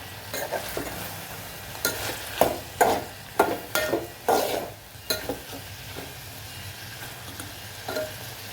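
Valachya bean pods fry in oil in a pan, a soft steady sizzle broken by a run of sharp, rhythmic spatula scrapes and knocks, then quieter stirring, with no talking.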